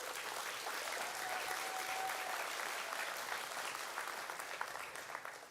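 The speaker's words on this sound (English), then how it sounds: "So how about a big applause for that grit to all of our graduates?" Sustained applause from a convocation audience honoring graduates at Northern Lights College in Fort St. John, a dense, steady wash of many hands clapping that holds even and loud for several seconds.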